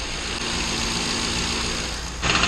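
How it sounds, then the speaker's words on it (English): A car's engine idles steadily with a broadband rattle from a loose part on the exhaust, close and constant, growing briefly louder near the end with no speech. "I think it's something on the exhaust rattling"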